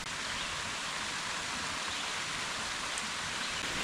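A small cascade runs down a mountainside on a trail at Petit Jean State Park after a night of rain, giving a steady, even rush of falling water with no talk over it.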